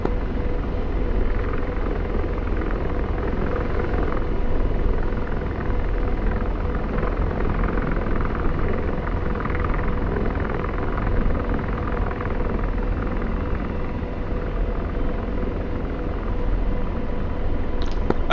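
An Apache attack helicopter in the DCS flight simulator flies steadily, its dense rotor and turbine rumble continuous and loud for the whole stretch, with no voices over it.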